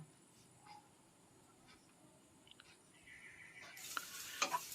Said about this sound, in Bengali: এবারে দিচ্ছি আমি গ্রেট করে রাখা আদা, একদম সামান্য একটু দিচ্ছি আদা